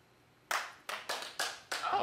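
A sparse studio audience on a daytime talk show claps in four or five distinct bursts after a short quiet pause, each loud and close.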